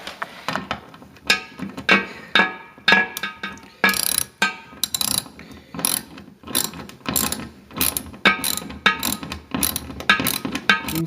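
A ratcheting tool drives the side fixing screws on a newly fitted toilet, giving repeated bursts of sharp, close clicking with brief pauses between strokes, alone with no talk.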